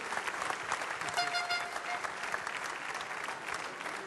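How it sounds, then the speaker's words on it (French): Applause from an audience at a pastry contest award ceremony, steady dense clapping from a large crowd that holds through the whole stretch without letting up. "Thierry Sibu, que je vous demande d'applaudir."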